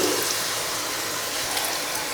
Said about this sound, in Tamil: கலந்துட்டு கொஞ்சம் தண்ணி சேர்த்துக்கலாம்